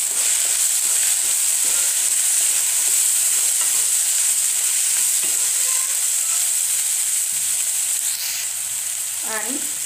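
A masala rice mixture with coriander powder, red chilli powder, garam masala and salt is stirred in a hot pan. A constant loud hiss and sizzle runs under soft, rhythmic scraping strokes, with a brief voice near the end.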